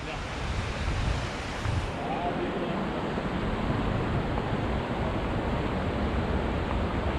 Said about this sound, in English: So we have a little creek over here